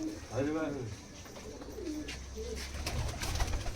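Close cooing of Giribaz pigeons in several rolling, throaty phrases, followed by some handling thumps and rustling.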